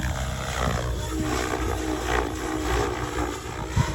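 A Blade 700 Fusion RC helicopter runs in idle 2 at high head speed, a loud, steady, rough roar of rotor and motor that holds throughout with no pauses.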